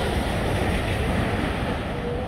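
Steady broadband roar of ocean waves breaking at Sadranan beach, continuous and fairly loud with wind noise mixed in, no distinct individual wave crashes.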